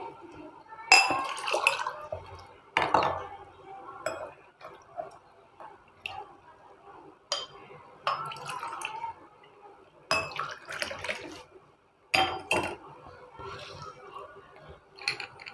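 Watermelon juice is served into glasses with soft pouring and bright glass clinks coming in short separate bursts, close and fairly quiet, with gaps of near silence between them.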